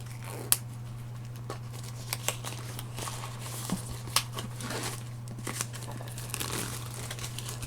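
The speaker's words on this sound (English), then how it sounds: "I'm just going to quickly attempt to get in via the cellophane." Close, crisp crinkling and tearing of cellophane wrap being picked off a boxed home-media set, in scattered short rustles and snaps over a steady low hum, with no talking.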